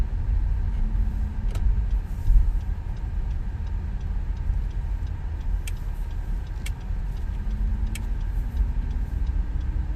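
Rental cars pull away in an airport rideshare area, producing a steady low traffic rumble with faint passing engine tones and a few light ticks and clicks.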